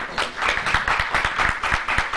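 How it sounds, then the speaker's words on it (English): Audience applause at a 2002 fundraiser event, a steady dense patter of many hands clapping, fairly loud and close, with no talk over it. "I don't know if you guys are applauding for Carolina or the food"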